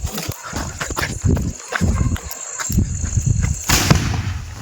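Loud, irregular bursts of explosive bangs as firecracker bombs go off in quick succession during Diwali celebrations, with some shouting voices mixed in nearby.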